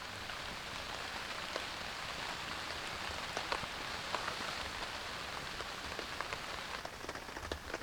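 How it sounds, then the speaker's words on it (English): Steady rain patters on a tarp overhead at a rainy campsite, a dense, even hiss with scattered sharper drops, heard alone without talk. "Yeah, another rainy day."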